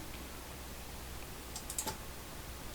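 A few quick clicks of a computer mouse while using the Spot Healing Brush in Photoshop, a short close cluster of light taps near the end of an otherwise quiet stretch with faint background hiss.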